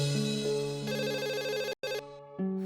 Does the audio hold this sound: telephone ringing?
yes